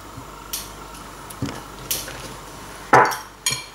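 A utensil folds mango puree into a mango mousse mixture in a bowl, giving a few soft scrapes and light clinks against the bowl, close and fairly quiet, with no one talking.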